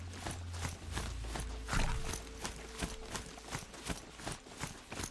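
Hoofbeats of a rider's pony in the game Horizon Zero Dawn: a steady, quick clip-clop gait of evenly spaced hoof strikes at close range, running right through with no talk.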